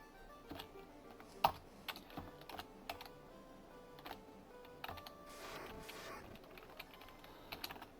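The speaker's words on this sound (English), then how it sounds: "Because I'm playing on keyboard" Keys on a computer keyboard tap quietly in scattered, irregular clicks while someone plays a game, with a few louder strikes and a brief rustle in the middle.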